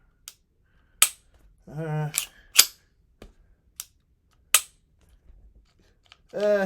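Sharp, dry clicks from the trigger resetting on a Girsan MC9 Match polymer-framed striker-fired pistol, spaced irregularly and close up, with a voice speaking briefly between them.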